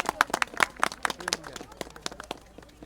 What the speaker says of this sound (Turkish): Evet alkışlıyorum